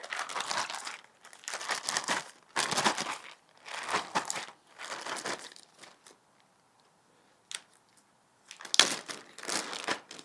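A zipped plastic bag holding barbecue rub and trapped air is shaken hard in several loud crinkling bursts, pausing briefly before a final round of rustling shakes.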